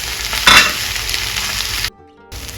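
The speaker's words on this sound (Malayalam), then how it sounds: "സവാള ലൈറ്റ് ബ്രൗൺ കളർ ആവുന്നത് വരെ ഒന്ന് വഴറ്റി കൊടുക്കാം." Sliced onions sautéing with salt in a pan on a gas stove for Kerala-style pepper chicken, a dense, loud, steady sizzle with a brief stirring scrape, cutting out for a moment near the end.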